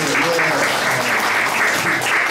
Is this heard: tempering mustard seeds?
no